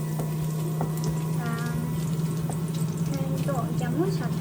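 Garlic frying in a pan, a steady close sizzle with a low constant hum beneath it and faint voices speaking intermittently.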